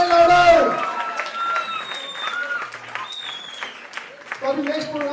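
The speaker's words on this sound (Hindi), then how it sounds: "अंजुम जी के लिए एक बार जोरदार तालियों का चाहिए, फास्टर एंड लाउडर" Audience applause at a gathering, steady clapping running under a loud voice that speaks over the start, then carries on with music-like tones mixed in.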